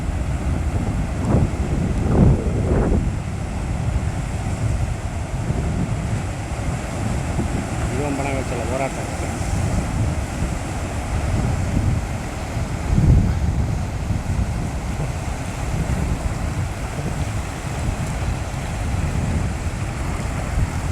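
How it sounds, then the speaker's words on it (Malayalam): Water flows out through the Poovar estuary mouth on the beach, heard as a constant roaring rush of wind and surf buffeting the microphone, loud and close, with faint voices now and then underneath. "പൂവാർ പൊഴി വഴി വെള്ളം ഇറക്കുകയാണ്"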